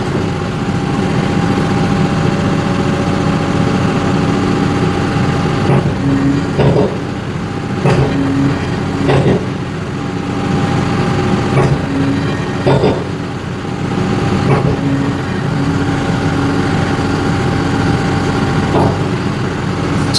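A tractor engine of about 100 horsepower drones steadily at around 1400 rpm, powering a tractor-mounted hydraulic log splitter, with periodic clunks and knocks of the splitter over the continuous rumble.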